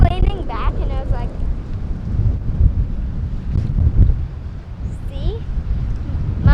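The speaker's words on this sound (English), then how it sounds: "You can see the wind blowing your hair." A strong summer wind buffets the microphone in an open yard with a roaring, uneven rush. Children's voices rise over it now and then.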